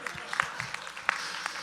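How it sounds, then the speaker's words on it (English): Scattered, sparse hand claps from a small group at a leader lunch-and-learn meeting, uneven and fairly faint, with a voice murmuring underneath. "Let's give Robert a hand of applause for that"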